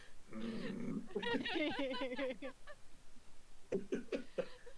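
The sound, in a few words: voice imitating an angered dog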